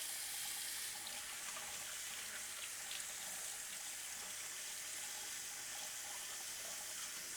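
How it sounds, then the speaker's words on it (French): Tomatoes rinsed under a running kitchen tap, a steady broadband hiss of water splashing into a sink, moderately faint and continuous with no talking. "je rince mes tomates afin d'avoir quand même quelque chose de clean"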